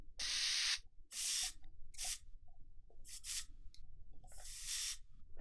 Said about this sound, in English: I sampled an aerosol spray can